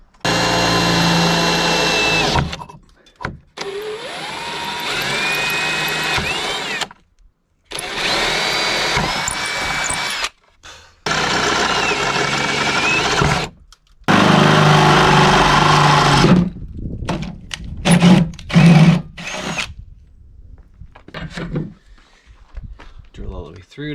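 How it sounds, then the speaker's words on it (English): A power drill bores through a bolt during an RV rebuild, running in several loud sustained bursts separated by short pauses, its pitch shifting under load, followed by quieter clanks and handling noises. "I could just cut this off, but let's drill through it."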